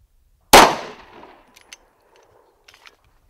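A handgun fires a single Speer Gold Dot 115 +P+ round into a Level 3A ballistic vest, one sharp, loud report that rings out and decays, followed by faint clicks and rattles.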